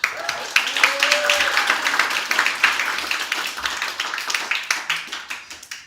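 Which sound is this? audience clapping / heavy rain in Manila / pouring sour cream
audience clapping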